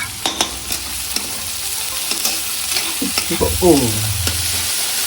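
Rice stir-fried with salt in a pan gives a close, loud sizzle with repeated scraping and tapping of a spatula against the metal, the stirring strokes coming in an irregular rhythm, with no talking.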